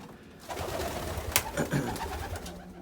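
Racing pigeons coo softly inside a breeding loft, a few overlapping throaty calls close by with faint rustling and no talking.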